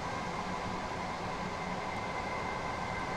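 Train at speed in Train Sim World 2020 on the East Coastway line: a steady loud rumble and rolling hiss with a faint tonal hum, unbroken and with no talk.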